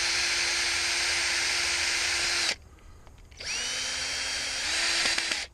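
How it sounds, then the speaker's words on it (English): A handheld power drill whines steadily while pre-drilling holes in a garden pea trellis, two long high-pitched runs separated by a short pause, close and loud with no talking. "I probably should pre-drill these holes."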